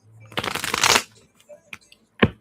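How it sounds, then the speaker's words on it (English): Tarot cards being shuffled up close: a quick, loud riffling burst lasting under a second, followed by a few soft taps and one sharp snap as the deck settles. "Let me shuffle really quickly."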